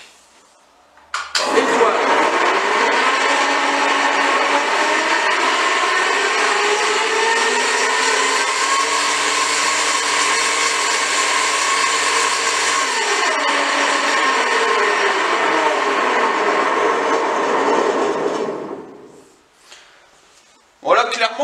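A planer-thicknesser (dégau-rabot), just reassembled, starts up and runs at full power: a loud, steady whirring roar that holds for about seventeen seconds, then winds down and fades out.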